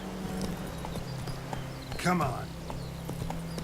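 Horse hooves clip-clopping in The Witcher 3: Wild Hunt, a steady rhythmic trot under game ambience, with someone briefly talking and a sharp in-game sound partway through.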